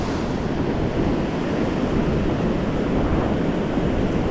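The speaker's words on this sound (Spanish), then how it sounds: "vienen como 3 o 4 olas grandes y después se calma así" Ocean surf on a southern Chilean beach where several large waves come in before the water calms: a constant heavy wash and rumble of breaking water mixed with wind buffeting the microphone.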